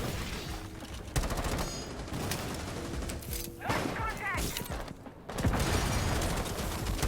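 Gunfire in Rainbow Six Siege rattles through dense, loud game audio, with bursts of shots and clattering impacts running throughout.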